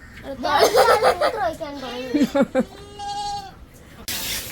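Young goats on a dairy farm bleat several times in quick, wavering cries close by, followed by a longer higher bleat and a brief burst of noise.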